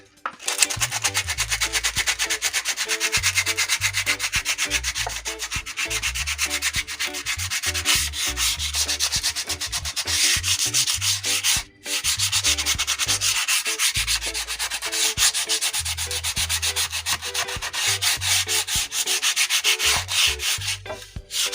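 Coarse 60-grit sandpaper scrubs against wood in continuous rhythmic strokes, loud and close, with one brief pause midway.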